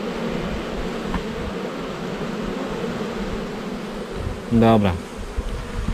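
Honeybees buzz around a hive while a mated queen is introduced, a steady close droning hum throughout, with a short spoken word near the end.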